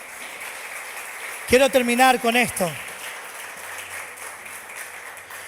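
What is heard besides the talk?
congregation applause for the Lord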